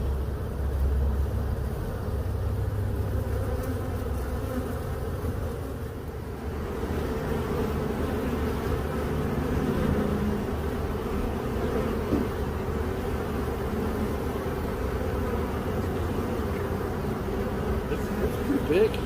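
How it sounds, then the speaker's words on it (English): A large swarm of honey bees drones in a dense, steady buzz close by, a continuous hum that barely lets up, with low background rumble underneath. "That's a pretty big swarm."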